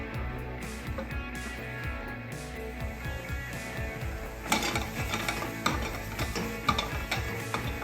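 Chopped onion frying in a pan, a soft sizzle with clicking stirs that grows louder and busier partway through, close by, no voices.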